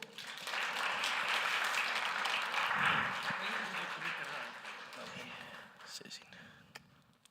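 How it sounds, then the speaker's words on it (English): Audience applause at a game development bootcamp, a moderate wash of clapping that builds, holds, then tapers off, with murmured voices underneath and a few isolated claps near the end. "please give a warm applause to Martin Turnpuu"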